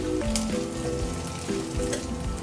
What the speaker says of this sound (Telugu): పచ్చివాసన పోయే వరకు ఫ్రై చేసుకోవాలి కారం వేసుకుందాము